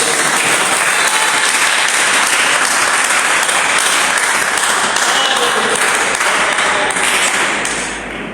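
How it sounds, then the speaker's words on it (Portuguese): Loud, dense applause fills a church as the congregation claps joyfully for Jesus, a continuous roar of many hands that holds steady and then eases off at the end. "dê uma salva de palmas bem alegre para Jesus"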